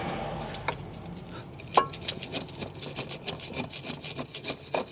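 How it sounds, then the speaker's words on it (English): Wire brush scrubbing rust off a Jeep Renegade tie rod end part, heard as quiet, rapid rasping strokes in an irregular rhythm, close by, with one sharper scrape partway through. "The old wire brush, a bit of rust there, isn't there?"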